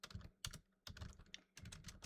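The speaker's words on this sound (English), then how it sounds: "Sorry if my typing annoys anyone today." Quiet, close typing on a computer keyboard comes in three short bursts of rapid clicking separated by brief pauses.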